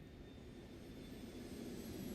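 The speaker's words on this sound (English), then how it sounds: "The default Vision Jet and X-Plane." Cirrus Vision Jet engine in the X-Plane 12 flight simulator, a faint steady jet whine and broadband roar holding constant, slightly swelling toward the end.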